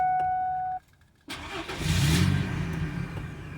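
A Ford car engine fires up after its ignition is hot-wired with vice grips, a brief click and silence followed by the engine catching and settling into a steady, loud running close by.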